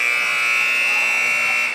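A basketball game-end buzzer at a varsity high school game sounds as a loud, steady electronic tone held for nearly two seconds, with faint crowd noise beneath it.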